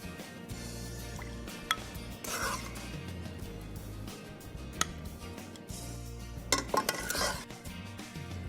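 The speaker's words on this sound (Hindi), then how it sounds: "चलिए जल्दी से हमारे सूप को इस लवली सूप बोल में निकाल लेते हैं।" Prawn soup is ladled from a pot into a soup bowl, with light clinks of metal against ceramic, scattered drips and liquid pours over a low steady hum, fairly close and without talk.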